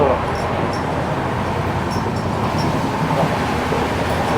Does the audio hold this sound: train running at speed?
yes